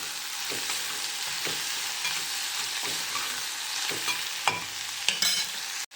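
Urad dal being stirred in a hot pan, a rhythmic spoon scrape roughly once a second over a continuous frying sizzle, close and fairly loud.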